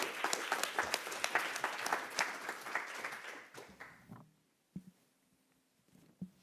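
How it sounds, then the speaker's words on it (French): Moderate applause from a conference audience at a French health-and-environment research talk, a patter of claps that tapers off after about four seconds, followed by near silence with a few faint knocks. "on vous applaudit"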